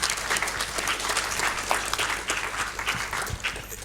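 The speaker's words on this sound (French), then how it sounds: "donc on vous applaudit." Audience applause at the close of a round-table discussion, full and steady crowd clapping running throughout, fairly loud with no talking.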